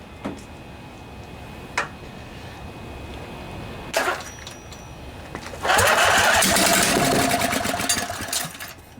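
A junkyard Briggs and Stratton Intek twin riding lawnmower engine gets a few isolated clicks and knocks, then cranks and runs with a loud, fast rattling chatter for several seconds before fading slightly, close up and without talk.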